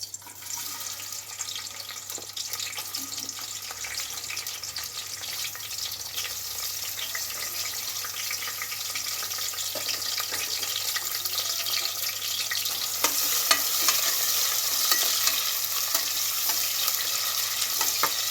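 Onion pieces fry in a few spoonfuls of oil for chicken pulao, giving a loud, continuous close-up sizzle with light stirring clatter that grows slightly brighter toward the end.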